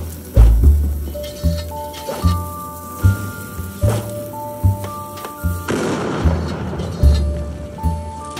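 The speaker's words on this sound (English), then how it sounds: "What the heck is shooting at us?" Repeated heavy gunshot booms ring out in a Roblox Waterloo-style battle game, arriving roughly once a second with sustained musical tones, loud and close, with a noisy burst midway.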